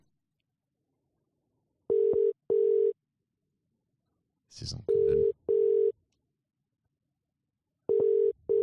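A telephone ringback tone during a call, paired steady beeps repeating about every three seconds, close and clear, with a brief spoken remark between rings.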